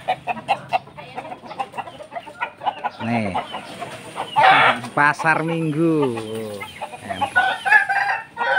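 Bangkok fighting roosters at a Pasar Minggu, South Jakarta trainer's place cluck in short repeated bursts, mostly near the start, while people talk close by over them.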